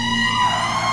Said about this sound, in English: When you hear these lights and these sirens, move the heck out of the way!